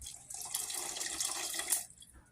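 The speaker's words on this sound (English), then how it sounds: "I will take a half a can of water and add to my sauce" Half a can of water is poured into a tomato sauce for homemade goulash, making a close, steady liquid gush that lasts under two seconds and then stops.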